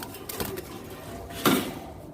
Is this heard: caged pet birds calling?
yes